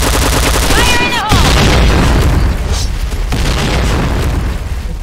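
A grenade blast in the video game CrossFire booms loud and close, followed by rumbling gunfire and battle noise while players shout over it.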